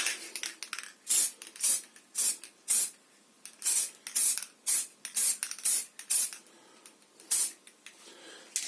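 Quick bursts from a spray paint can coat a guitar headstock in light side-to-side dusting passes, roughly a dozen sharp hissing blasts in an uneven rhythm, close and loud, with quiet pauses between them and no voices.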